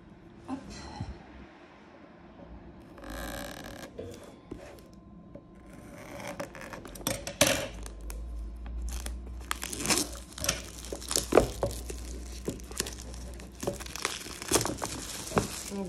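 Scissors cutting into oracle card box packaging, with crinkling, rustling and sharp snipping bursts that grow denser and louder in the second half, close and without talk.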